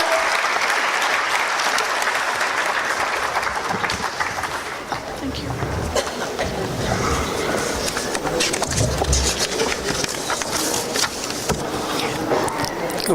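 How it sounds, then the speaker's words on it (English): Sustained applause from a large conference audience fills the whole stretch, steady and loud, with a dense wash of clapping and a few louder claps scattered through. "request everyone to please give us a big round of applause"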